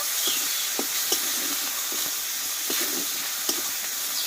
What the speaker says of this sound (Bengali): টমেটোটা একটু ভালোভাবে কষিয়ে নেব